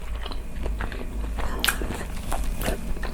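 A crispy homemade black pudding Scotch egg is bitten into and chewed up close, giving a few crunchy bites and soft chewing noises over a steady low background rumble.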